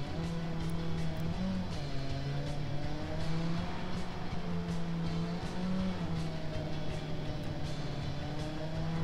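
Car engine in the video game Watch Dogs, a steady droning hum with gentle pitch shifts as the car drives along, loud and continuous with faint clicks on top and no talk.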